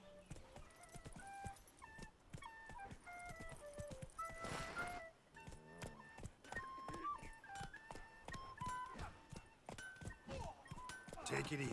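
Roach, the horse in The Witcher 3, gallops with regular hoofbeats under melodic game music, while someone talks over it.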